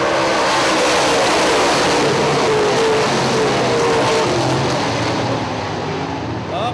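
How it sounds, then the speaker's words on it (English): Several late model race cars roar loud and close at Hartford Speedway as they get back up to speed, with engine noise filling the whole stretch and a track announcer speaking underneath. "Green flag, we're back to racing."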